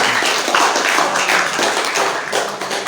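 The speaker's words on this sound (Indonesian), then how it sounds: "Jadi tepuk tangan untuk ICES dulu lah ya." Clapping from the audience at a panel discussion on economic strategy in Islamic boarding schools, a fairly loud stretch of many hands with some individual claps standing out, no talk over it.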